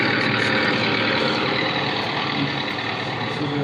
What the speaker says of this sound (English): the tractors are working to prepare the field for